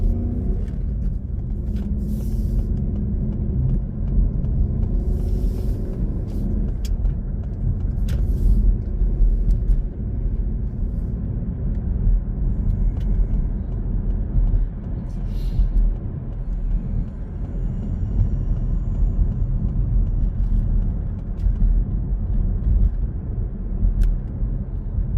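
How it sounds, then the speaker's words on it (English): Two grey cars roll past on a road, heard from inside a moving car as a steady low rumble of tyres and engines that swells and fades over a long stretch. "I'm just waiting for these two grey cars to come past."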